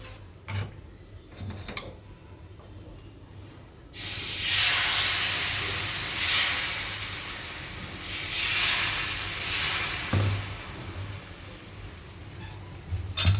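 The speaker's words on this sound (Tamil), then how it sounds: "இப்போ வாங்க தோசை சுடுறேன், பார்க்கலாம்." Ragi dosa batter meets a hot pan, and after a few quiet seconds a steady, fairly loud sizzling hiss takes over and continues close up with no talking.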